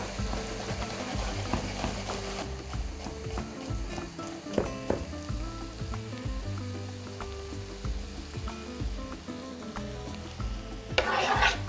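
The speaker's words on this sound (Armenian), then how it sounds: "Թող տապակվեն բաղադրիչները" Garlic and other ingredients fry in a pan as the base for beef ribs, a faint continuous sizzle with soft scraping stirs and occasional light taps, closing with a brief louder hiss.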